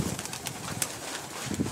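Pigeons coo softly inside a pigeon loft, low burbling calls close by over a rustling background, with no one speaking.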